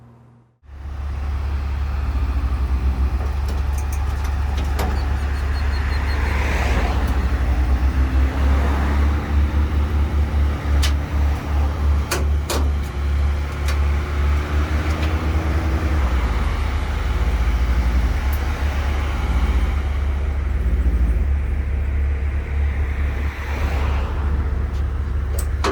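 A car being loaded onto an open car carrier truck at pickup, with a steady loud low engine drone and road noise running throughout, plus occasional metallic clanks and knocks.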